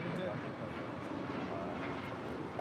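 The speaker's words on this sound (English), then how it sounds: "That is United 1635 departing to Washington Dulles on a MAX 9." A United Boeing 737 MAX 9 departing LAX, a steady broadband jet roar heard from a distance, continuous throughout with no talk over it.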